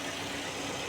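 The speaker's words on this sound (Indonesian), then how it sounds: "Ini kondisi mesin setelah beberapa menit dinyalakan" A car engine idles after running for a few minutes, a brief steady, even hum held close with no talking over it.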